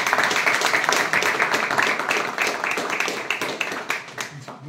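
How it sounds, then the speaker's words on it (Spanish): Audience at a Spanish community talk applauding, dense close clapping that holds steady and then thins out toward the end, with some talk underneath. "Un fuerte aplauso para ellos."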